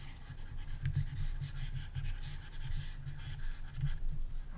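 Continuous scrubbing friction from erasing writing on a board, a close, steady rubbing with slight rhythmic surges and no talk.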